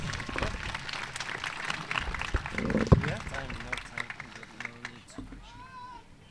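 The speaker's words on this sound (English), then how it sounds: "Please give them a round of applause." At a high school graduation ceremony, the audience applauds the teachers and staff. The loose clapping rises to a peak midway and then thins out, with voices heard over it.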